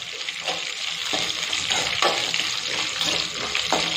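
Dried red chillies sizzle and fry together with onion in a hot pan for a curry leaf chutney, with a steady crackling hiss and periodic stirring scrapes, close and continuous.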